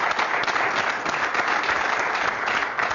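Steady, dense applause from a studio audience at a televised Arabic joke show, many hands clapping continuously at close range for the whole stretch without pause.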